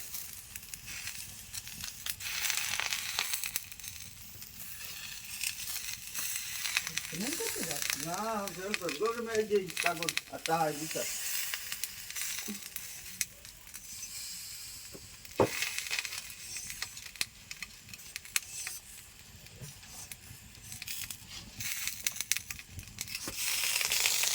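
Crab frying in oil on a leaf gives a steady broadband sizzle that runs the whole time, with a short burst of voice partway through.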